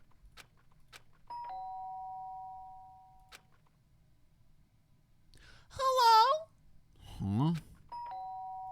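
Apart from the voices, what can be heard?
doorbell ringing in Danganronpa video game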